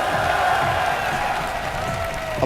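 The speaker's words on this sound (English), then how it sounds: "If you would like to see him in the finals, give a cheer for MC!" A large audience at the MLG Columbus 2011 StarCraft II tournament cheers and claps in a sustained, dense roar that fades slightly toward the end.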